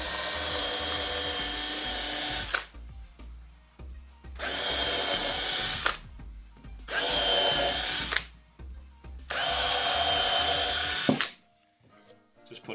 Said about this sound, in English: So we'll drill, say, 4 holes